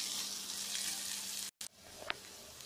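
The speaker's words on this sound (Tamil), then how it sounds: "வெங்காயம் வந்து ஒரு 2 நிமிஷம் மட்டும் வதங்கட்டும்." Onions sauté in oil with a soft, steady sizzle that cuts out briefly, then resumes alongside a faint clink and a trickle like running water.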